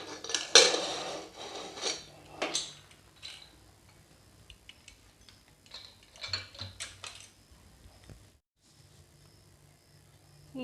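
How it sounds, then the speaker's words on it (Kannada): A pressure cooker lid, cooled after two whistles with vegetables for soup, is worked open with metallic clicks, scrapes and clatters of steel in several short bursts close by, with no talk. "ಈಗ ಮ್ಯಾಗಿನ ಮುಚ್ಚಳ ತೆಗಿಯೋನು."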